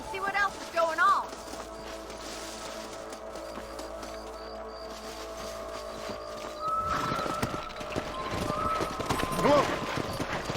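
Horses in the Red Dead Redemption video game clip-clop at a steady walking rhythm with an occasional whinny, set against a constant game soundscape of ambient music, growing busier and louder in the second half.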